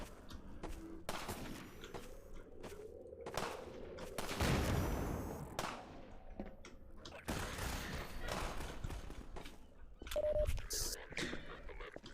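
Half-Life 2 gameplay with an SMG grenade: rapid bursts of gunfire and a loud blast near the middle, while a person talks over the action.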